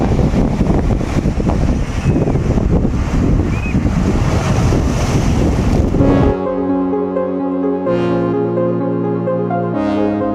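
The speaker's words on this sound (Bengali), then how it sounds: "দেখছিলাম ধেয়ে আসা এক একটা ঢেউ আজরে পড়ছে পাথরের উপর" Sea waves crash onto rocks along Digha beach at dawn, a loud, continuous roar of surf mixed with wind buffeting the microphone for about six seconds, then the surf gives way to steady music.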